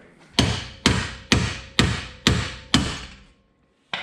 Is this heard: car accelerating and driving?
no